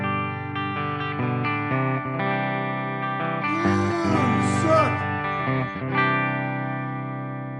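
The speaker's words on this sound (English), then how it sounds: "Just a little reverb coming from Ocean's 11 in the loop." A Charvel Satchel electric guitar with Fishman Fluence pickups plays sustained, ringing notes and chords through an Ocean's 11 reverb pedal in the effects loop, giving a subtle wash of reverb that stays clear and steady throughout.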